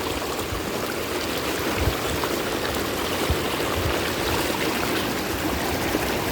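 Steady water of a river flowing and trickling over rocks, a continuous even babble with no voices, at Cinangka, Jalan Cagak, Subang.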